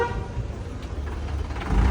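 Vehicle horns honk through blocked traffic on a side street in Cusco, Peru, a steady low rumble of engines with a loud blaring horn swelling near the end.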